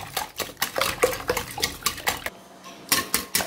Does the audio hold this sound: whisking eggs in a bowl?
yes